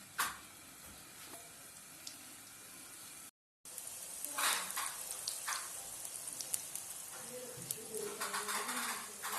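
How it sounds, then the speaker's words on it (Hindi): Macaroni samosas deep-fry in oil over medium heat with a crackling sizzle and small bursts, while birds coo and chirp in the background. "दरमियानी आंच पे इनको तलना है।"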